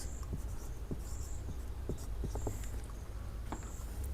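A pen writes on paper while working a Class 10 linear equations problem, giving faint, irregular scratchy strokes and short taps over a steady low background hum, with no voice.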